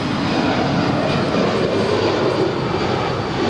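A 12-year-old American Airlines Airbus A320 departs Los Angeles International Airport, its engines giving a loud, steady broadband roar for the whole stretch.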